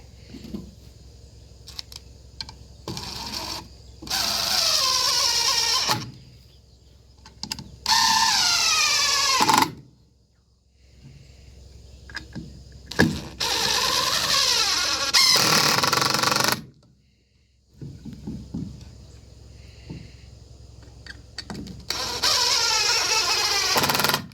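A power drill drives screws into wood while an electric fence is being built. Several loud, whining bursts of a few seconds each are separated by quiet handling and clicks, all close up with no one speaking.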